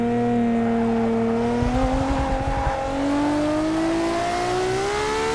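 A racing game car engine revs steadily through gear shifts made on a Logitech Driving Force shifter, with the pitch climbing, dropping briefly at a shift and climbing again, loud and continuous.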